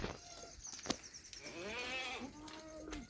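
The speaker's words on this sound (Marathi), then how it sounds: "शेळ्या आणि पिल्ले" Goats and kids bleat at close range while feeding on a goat farm, a wavering cry rising then falling, with a sharp knock early on and quiet rustling around.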